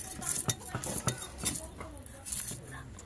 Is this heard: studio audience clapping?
no